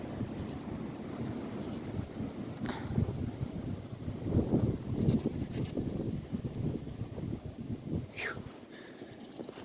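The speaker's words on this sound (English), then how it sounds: "It's very windy out." Strong wind roars and gusts through trees, rising and falling in loud buffeting surges, with rumbling noise battering the microphone.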